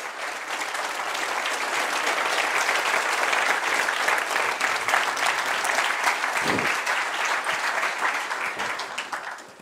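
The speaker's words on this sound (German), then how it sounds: "Ihr Applaus." A film museum audience in Frankfurt gives sustained, dense applause for a visiting film director, loud and even for nearly ten seconds with no speech over it, easing off at the very end.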